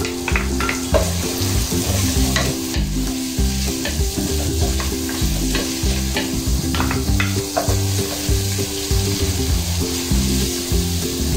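Chopped onions sizzle in a hot pan as the base for Ilokano beef papaitan, a steady bright frying hiss with irregular scraping stirs throughout, close and continuous with no talking.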